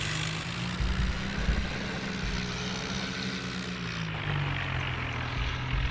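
A tractor engine from a farming video game labors steadily uphill, a continuous droning rumble with a shifting pitch that holds loud and unbroken throughout.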